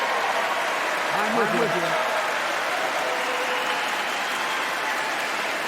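An audience at the State of the Union address cheers and applauds, a sustained dense clatter of clapping with some voices rising over it at a steady level throughout.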